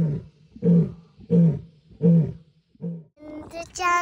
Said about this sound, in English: Their mighty roar can be heard from very far away.